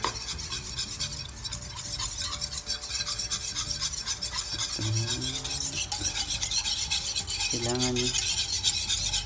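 A spoon or whisk scrapes and swirls through a leche flan mixture in a bowl, producing a steady, close raspy stirring that continues throughout, with a brief spoken word and faint tonal clinks partway through.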